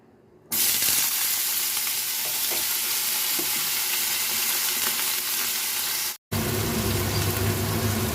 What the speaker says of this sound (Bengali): আমি তো 2 চামচ তেল দিয়ে নিয়েছি কড়াইতে। এবার আমি একে একে সবজিগুলো সব দিয়ে দেবো।